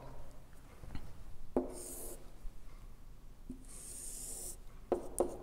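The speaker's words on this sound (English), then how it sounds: "Now I'm going to sketch the graph." A pen scratching and sketching a graph on paper, with short bursts of rubbing strokes separated by quiet gaps, close and fairly soft.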